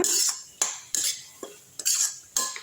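A utensil scrapes and clatters against a pan while moringa leaves are sautéed with eggs, in six or seven sharp, evenly spaced strokes with brief pauses between them.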